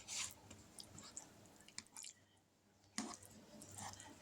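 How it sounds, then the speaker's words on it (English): A dog smacking its lips and chewing food nearby in a home kitchen, wet, irregular squishy smacks and clicks that repeat steadily with a brief pause midway, no talk over them. "If you hear that smacking in the background, that's my dog."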